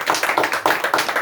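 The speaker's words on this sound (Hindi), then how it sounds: "तो उनका जोरदार तालियों से आप लोग स्वागत कीजिए" An audience claps to welcome a special guest at a Human Rights Day programme. It is a short, fairly regular burst of close hand claps.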